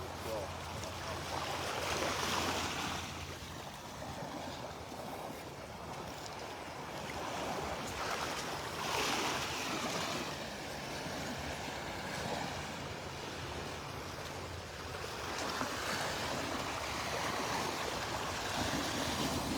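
Waves wash onto the beach at Delnor-Wiggins in North Naples, Florida, as a broad, steady rushing surf that swells and eases in slow cycles, with someone talking over it.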